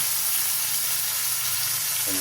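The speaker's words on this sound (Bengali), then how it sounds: "এই পেঁয়াজটা দিয়ে ভাজবো" Onions frying in a pan for a home-cooked fish recipe, a steady close sizzle with soft bubbling that runs evenly throughout, and no voices over it.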